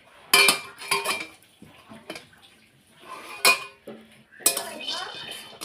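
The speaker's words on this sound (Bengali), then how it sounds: "বাদামগুলো খোসাগুলো ছাড়বো, তো সেই জন্য এইদিকে শুকনো খোলার মধ্যে একটু নাড়াচাড়া করে নিই" Peanuts stirred in a dry pan, with sharp scraping and rattling clatters of metal on pan coming in uneven bursts, separated by short quiet gaps.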